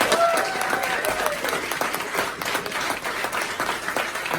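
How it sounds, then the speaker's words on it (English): An audience at a political fundraiser event in Franklin, Tennessee gives a round of applause, sustained steady clapping from a crowd, with a voice or two heard over it. "So please give him a round of applause."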